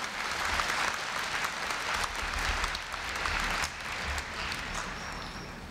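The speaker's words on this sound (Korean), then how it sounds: "네, 다시 한번 큰 박수 부탁드립니다." Renewed applause from a large audience at Korea University's 2015 freshman entrance ceremony, a sustained dense roar of clapping with slight swells, holding fairly steady from start to finish.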